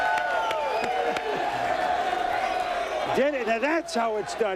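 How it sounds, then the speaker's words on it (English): Draft day crowd roaring and cheering at the 2003 NFL Draft, a steady wash of loud crowd noise under a voice, with another voice talking over it near the end. "And listen to this crowd."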